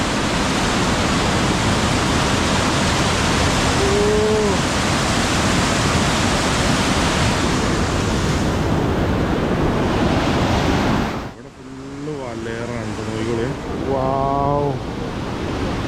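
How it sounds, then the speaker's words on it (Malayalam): Loud, steady rushing river water roars without pause, and near the end a voice speaks briefly over a quieter stretch of flow. "ഇങ്ങോട്ട് ഭയങ്കര ഒഴുക്ക് വെള്ളം കേട്ടോ"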